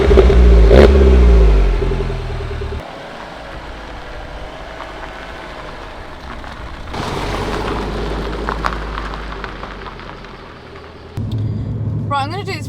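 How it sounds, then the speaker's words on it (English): A Mini Cooper JCW engine starts and revs, with a loud crank and rev up front, then a lower idle with further surges and revs, while someone talks throughout. "put your foot on the clutch and start the car"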